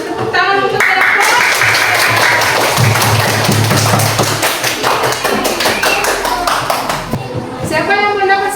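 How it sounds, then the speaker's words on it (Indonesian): Schoolchildren clap together for a group in a classroom, a dense burst of rapid hand claps lasting several seconds, with voices talking over it. "Tepuk tangan untuk kelompok."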